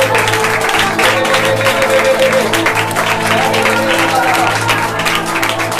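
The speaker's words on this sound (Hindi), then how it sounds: "चलिए ताली बजाकर इसकी हम अन्य भाषा करते रहे।" A church congregation claps steadily through a Sunday service, dense and loud crowd applause with a voice speaking over it.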